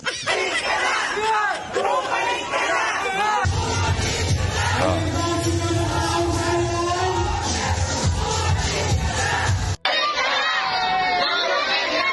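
A street crowd of townspeople at a mayoral campaign walkaround in Manila shouts and cheers loudly and continuously, voices chanting and yelling together close by, with a brief break near the end.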